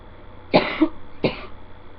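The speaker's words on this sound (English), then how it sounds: "I've had a really bad cough too." Two harsh, close coughs about half a second apart, loud against a quiet background.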